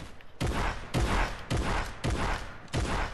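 An enemy in Fortnite fires a gun in five loud, close, evenly spaced bursts, each a sharp blast with a short decaying tail.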